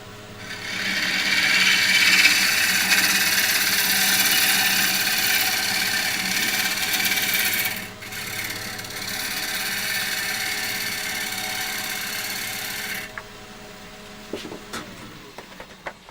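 Wood being cut on a lathe with sharp turning tools, throwing curly wispy shavings: a steady broadband scraping hiss that runs continuously, breaks off briefly, then resumes before fading to quieter workshop noise with a few knocks near the end.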